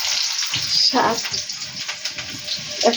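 Leafy greens being washed under running water, a close hissing splash with sloshing bursts and a brief voice in the background.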